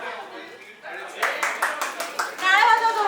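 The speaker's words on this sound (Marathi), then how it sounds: "जोरदार टाळ्या वाजव सगळ्यांनी." A crowd claps at a traditional baby shower, a quick run of sharp hand claps close by that swells into a denser burst, with voices talking over it.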